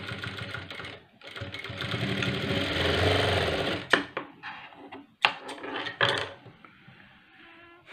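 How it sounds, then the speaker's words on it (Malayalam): Sewing machine stitching a two-colour blouse, a loud steady mechanical whir and rattle for a few seconds, then short stop-start bursts and clicks as the fabric is adjusted. "ഒന്ന് തയ്ച്ചെടുക്കുക."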